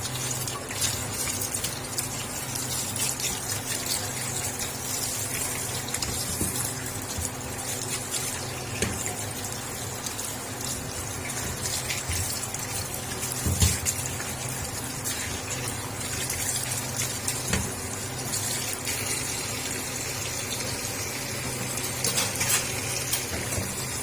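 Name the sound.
washing peeled bitter gourds in water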